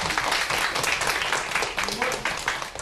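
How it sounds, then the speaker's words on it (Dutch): Studio audience applause as a hairdresser walks onto the set of a Dutch children's TV show, a dense, steady patter of clapping that fills the whole moment with slight swells. "die mag best een applaus geven"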